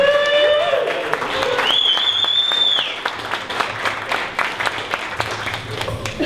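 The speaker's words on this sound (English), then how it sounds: "So everyone please stand up and give a great round of applause." Audience claps at a startup pitch event, a crowd's applause rising alongside whistles and a cheering tone early on, then thinning into scattered, uneven claps.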